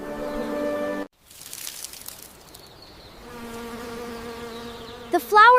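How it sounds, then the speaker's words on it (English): Bees buzz among grape vine flowers, a close droning hum that cuts out abruptly, returns, and passes near the microphone before swelling again. "The bees and butterflies are so busy today."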